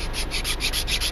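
A file rasps across a handmade wooden Cherokee four-hole whistle in quick, even back-and-forth strokes, close and loud with no other sounds.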